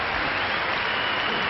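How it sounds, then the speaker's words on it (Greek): Crowd applause in the arena during a Panathinaikos versus PAOK basketball game, a steady wash of clapping that runs evenly through the short stretch without a break. "Το χειροκρότημα στο μεταξύ για τον Γιώνας Μασκούλης"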